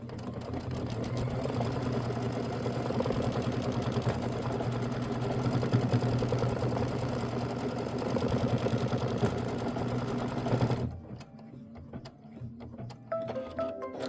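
An embroidery sewing machine stitches a satin stitch on a Kimberbell popsicle and rocket quilt block, a rapid steady mechanical whir that runs for about eleven seconds and then stops abruptly, leaving quieter handling noises.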